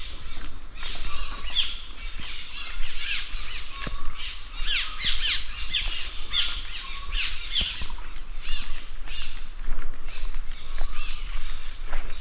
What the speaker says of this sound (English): I think it's mainly birds chirping.